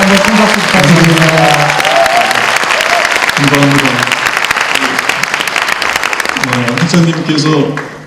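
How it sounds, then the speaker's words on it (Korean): A large crowd claps steadily at a university social sciences degree conferral ceremony, with a voice speaking over the applause and a brief musical tone near the end. "다시 한번 큰 박수 부탁드립니다."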